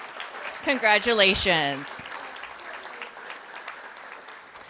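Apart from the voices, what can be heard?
audience applause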